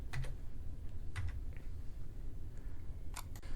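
A password is typed on a computer keyboard in short clusters of crisp key clicks with pauses between them, close and fairly quiet, with no voices.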